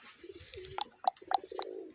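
Pigeons coo in soft low bursts near the listener, mixed with sharp chirps and wing-like clicks, with no talking.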